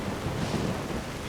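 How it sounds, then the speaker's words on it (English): Heavy rain pours down during a thunderstorm in the video game Skyrim, forming a loud, steady, dense wash of noise with a low rumble underneath and no voices. "the rain is so stupidly loud"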